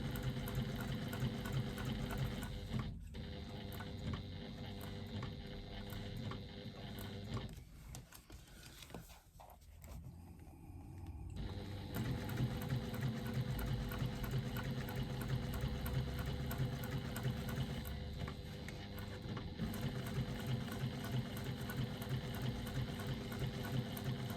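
A sewing machine runs steadily while top stitching. The fast, even mechanical whir is quiet, with a brief pause in the middle before the stitching resumes at the same pace.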